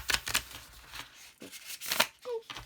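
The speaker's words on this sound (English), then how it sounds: "let's shuffle the cards and see what we're going to get this week" Someone shuffles a stiff deck of cards at close range, in quick riffling bursts broken by short pauses and a few soft taps of the cards.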